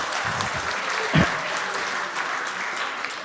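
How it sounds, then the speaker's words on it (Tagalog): A church congregation applauds for a singer at a worship service, a dense sustained patter of many hands clapping, fairly close, with one louder thump partway through. "Isa pa nga pong palakpak para kay Solen."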